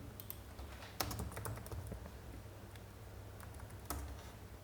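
Quiet keystrokes on a computer keyboard while typing a search for bitcoin mining into Google, a few sharper taps standing out from soft, irregular clicking, with no talk.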